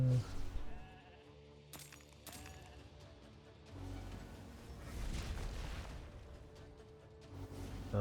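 Sheep bleating in the RAID: Shadow Legends video game, heard as several wavering bleats over low booming battle effects and a game soundtrack, with no talk.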